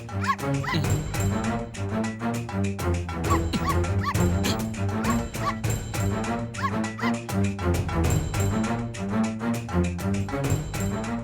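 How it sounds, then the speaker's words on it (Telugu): A puppy barks and yelps rapidly and repeatedly, high-pitched and close, with whimpering cries mixed in throughout. "అక్కడేదో కుక్క పిల్ల సౌండ్ వస్తుంది."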